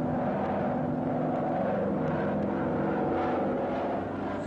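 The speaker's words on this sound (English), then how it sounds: "the P-38 is a sky spy that slips in on the enemy for close-range aerial photos" A Lockheed P-38 fighter plane drones steadily overhead, its engines making a continuous, moderately loud hum with no pauses.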